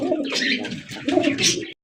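Adult maxi racer pigeons coo and call in low, rounded bursts, with a few brighter chirps mixed in. The calls come steadily and close for nearly two seconds, then stop abruptly.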